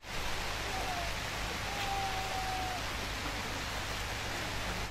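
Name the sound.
rain falling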